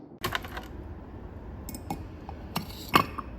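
An ice ball clinks against a glass of Tanqueray London Dry Gin served on the rocks, giving a few light, separate taps spread over a few seconds in a quiet room with no talking.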